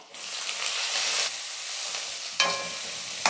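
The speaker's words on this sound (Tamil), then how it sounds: "வெங்காயம் எல்லாம் வந்து நல்லா வதங்கி வரணும்." Onions sizzle and hiss in a hot pan, a steady frying crackle with brief bursts as they are stirred, close by and with no voices.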